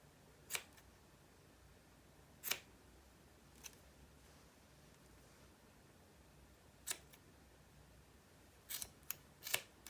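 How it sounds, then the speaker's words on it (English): Sharp scissor snips, isolated and irregular, cutting through yarn loops on a crocheted beanie hat in a quiet room, with a quick cluster of cuts near the end. "take your scissors and start cutting the ends, these loops"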